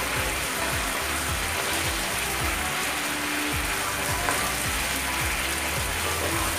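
Beetroot halwa sizzles steadily in a hot pan over high flame, a dense continuous fry hiss close by, with faint scrapes of stirring running beneath it.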